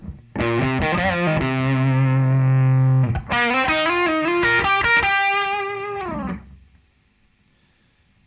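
A distorted electric guitar plays the sustained chorus lead melody of a song with bends, ringing loudly alone before fading into silence.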